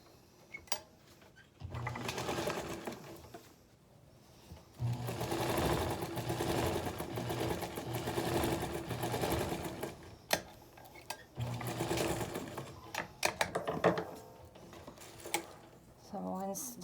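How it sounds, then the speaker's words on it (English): A sewing machine stitches together the center seam of a fabric face mask in several bursts of whirring needle chatter, separated by brief pauses, with a voice talking at times. "then I'll just sew this together"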